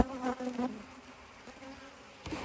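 Honey bees buzzing steadily over a comb frame during a spring hive split, a dense close insect hum with a louder burst early on and a brief thump near the end.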